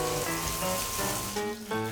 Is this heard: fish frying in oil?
yes